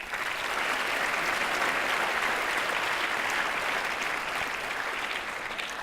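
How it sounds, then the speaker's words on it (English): Sustained audience applause at a high school event honoring the 2018 volleyball team, a dense, steady clatter of many hands clapping at full volume throughout with no break. "Let's give another round of applause to the 2018 volleyball team."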